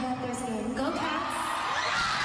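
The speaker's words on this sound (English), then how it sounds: "Oh man, crowd's eating it up." Arena concert crowd whooping and cheering in a steady dense roar, with scattered yells rising above a continuous wash of sustained noise.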